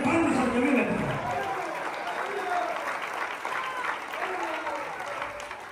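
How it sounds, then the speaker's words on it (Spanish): Congregation in a church clapping along together, a broad, steady wash of palms that stays fairly loud throughout, with voices mixed into the crowd noise. "Vamos a tener palmas al que vive."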